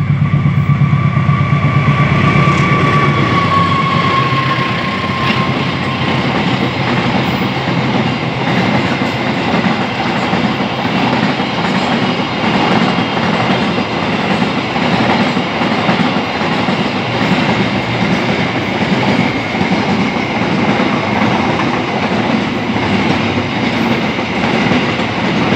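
Cargo train rolling through Dawan Cikampek station in Indonesia, a loud continuous rumble of wheels and wagons with steady clatter and a brief high squeal early on, sustained throughout without pause.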